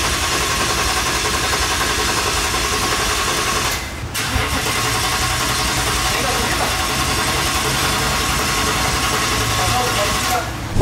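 A Ford Mustang's engine, damaged in an accident, turns over and runs, holding a loud steady mid-pitched drone that briefly dips before picking back up, with voices talking nearby.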